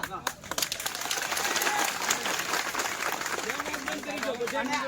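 Audience members at a Koli community gathering clap in a scattered, rattling patter that runs beneath someone speaking loudly into a microphone.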